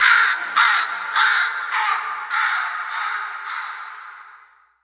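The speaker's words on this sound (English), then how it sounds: "I added the sound of crows" Crows caw loudly and close, a run of about eight harsh calls in steady rhythm, fading away at the end, used as a sound effect in a Halloween music beat.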